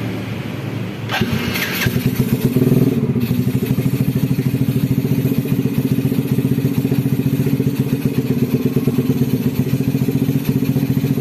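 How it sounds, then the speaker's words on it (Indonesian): A Yamaha Vega R motorcycle starts after a short starter crank, then settles into a loud, steady idle with a rapid, even putter and some mechanical clatter, recorded close up. "Kita coba dites untuk dihidupin motornya cuy."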